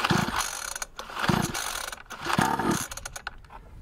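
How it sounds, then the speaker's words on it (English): A 50cc pocket dirt bike engine is pull-started with three rhythmic rope pulls, each a short whirring rasp of the recoil starter, close and fairly loud, with no speech. "This is an easy pull start, you don't have to pull aggressive, you just pull gently till the bike starts."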